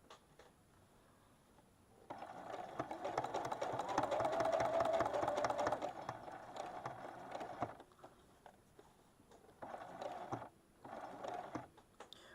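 A sewing machine stitches quilt binding in a steady, close whirring run of several seconds, then stops and restarts in two shorter bursts, with quiet pauses between.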